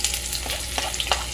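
Garlic fries in a pan for Maharashtrian stuffed brinjal (bharli vangi), giving a steady close sizzle with a few light stirring clicks and crackles, and no talking.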